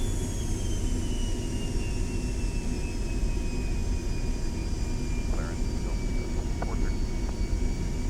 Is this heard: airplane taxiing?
yes